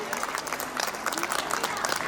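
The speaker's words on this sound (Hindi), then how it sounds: "मैं चाहता हूं जोरदार तालियां बजाइए इनके लिए।" An audience at a school Republic Day program applauds in a brief, lively burst of clapping, with a voice faintly underneath.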